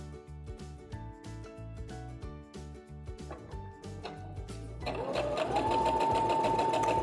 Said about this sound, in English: I'm just gonna sew my 1/4 inch seam all the way down